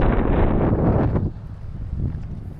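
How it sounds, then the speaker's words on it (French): Strong seaside wind on Ibiza buffets the microphone in loud, rough gusts, easing somewhat after the first second but continuing to roar throughout. "là il y a beaucoup de vent, il y a beaucoup de vagues."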